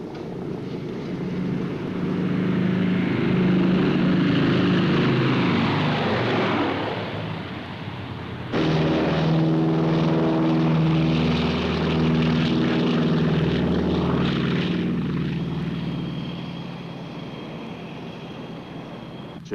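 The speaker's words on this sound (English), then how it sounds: "Clear for takeoff." A propeller military airplane, a Cold War-era aircraft, runs up and takes off, its engine drone building loudly and steadily, surging again mid-way, then holding a strong roar with some wind noise.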